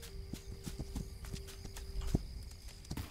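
Horse hooves clip-clopping in a video game, a steady walking rhythm of soft, fairly faint clops over a quiet ambient backdrop.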